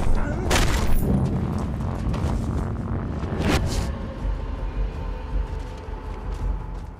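Explosions in the video game Mad Max, two sharp booming blasts a few seconds apart over a continuous low rumble.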